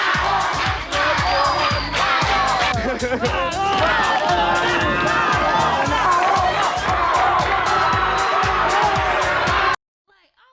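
A large crowd screams and cheers at a Madonna event, a loud continuous roar of shrieking voices and babble that cuts off abruptly near the end.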